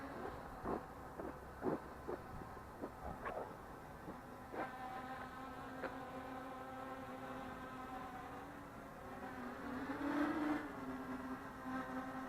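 Small brushless Racerstar motors on an XK X350 quadcopter whine in a steady high buzz with harmonic layers, punctuated by short clicks and bumps early on, then briefly rising in pitch and loudness near the end.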